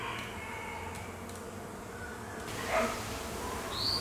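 Bees swarming around a hive, a steady dense buzzing hum that fills the scene at moderate level, with a few louder passes near the end.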